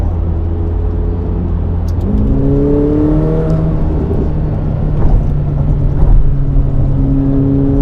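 McLaren 750S sports car driving on Tokyo streets in sport handling mode, its engine holding a steady drone that climbs in pitch with a gear change partway through, close and continuous from inside the cabin.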